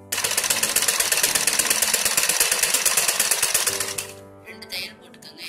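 Sewing machine stitching two waistband pieces of a circular palazzo skirt together, a fast steady rattling run close by that stops near the end, followed by softer handling sounds.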